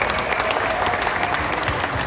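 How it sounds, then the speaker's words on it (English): Crowd applause at the Chrysler Carlisle Nationals car show, a dense, steady clapping from a large audience that fills the whole moment at even loudness. "let's give her a big round of applause."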